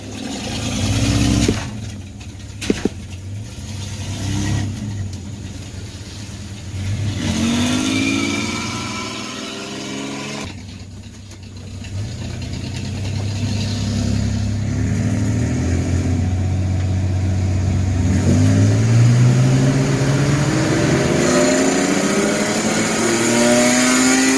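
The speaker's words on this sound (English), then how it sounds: "Getting them to do a burnout" A Chevrolet S10 pickup with a failing transmission does a burnout at a drag strip, its engine revving loudly and climbing in rising surges over a continuous roar.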